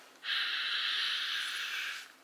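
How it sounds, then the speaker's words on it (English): A person sniffs a new iPhone 15 Pro charging cable up close, one long steady inhale lasting about two seconds, with no talking. "Just gotta do the sniff test."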